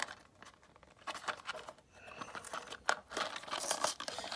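Plastic packaging of a toy figure being torn open by hand, close ripping and crinkling in irregular bursts, growing louder toward the end, with no talking.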